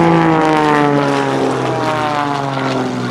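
A loud propeller plane roars close by at an airshow, its engine droning with a steady pitch that slowly drops as it passes.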